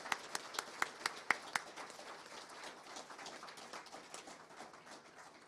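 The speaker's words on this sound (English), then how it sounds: "round of applause" A round of applause from a small crowd at a press conference, a few sharp distinct claps at first, then blending into a steady, moderate patter that gradually thins out.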